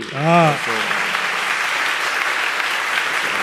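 A crowd at a French-language variety stage show breaks into applause, a dense, even wash of clapping that follows a brief spoken voice at the start and carries on steadily.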